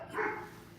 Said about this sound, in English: People and their dogs.